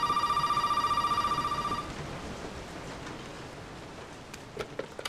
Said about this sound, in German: Das Telefon klingelt also, ja?